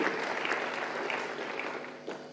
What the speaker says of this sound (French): Maintenant nous acclamons